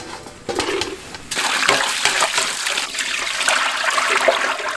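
Blanched pork intestines are rinsed under running water in a kitchen. A steady rush of water splashes and trickles close by, growing fuller partway through with no voices.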